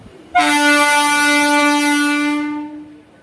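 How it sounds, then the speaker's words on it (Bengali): A loud, sustained horn from a local train leaving the car shed blares for about two seconds, then fades as it passes. "সামনে দেখতে পাচ্ছেন কারশেড থেকে একটি ট্রেন"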